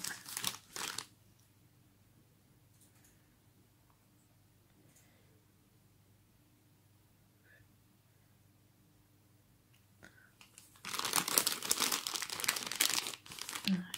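A card being pulled from McDonald's Pogs plastic packaging: a brief crinkle at first, a quiet pause with small rustles, then a long, loud burst of close crackling and crumpling plastic.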